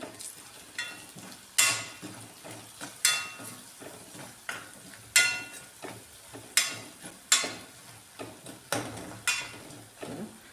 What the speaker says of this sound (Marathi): आता व्यवस्थित मिक्स करून घेऊ हे सर्व मसाले